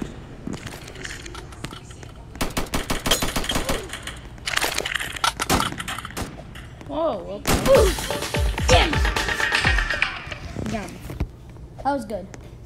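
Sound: gunfire in video game Strucid

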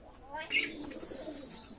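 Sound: pigeons cooing

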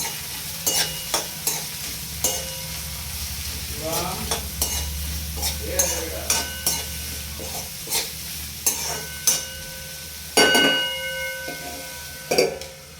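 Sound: chopped spiny gourd (kantola) sautéing in ghee in a kadai

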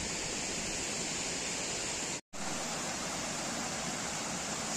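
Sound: waterfall

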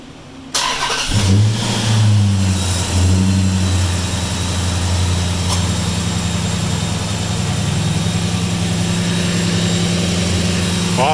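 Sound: car engine starting and running, checking alternator whine

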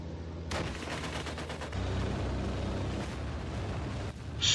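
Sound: Stuka dive bomber attack in WW2 Online video game

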